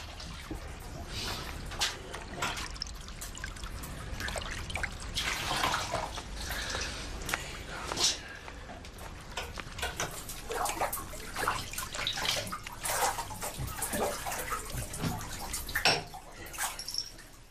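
Water pours steadily into a bathtub for washing, a continuous broadband rush broken by splashes and sloshing, close and fairly loud throughout.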